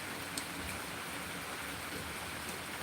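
Steady rain falls outside on a farm, heard from a porch as a soft, even hiss of drops with no voices.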